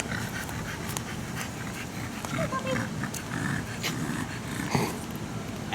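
A dog pants heavily and growls close by, with snorts and rough breathing mixed in, while people talk over the noisy scene throughout.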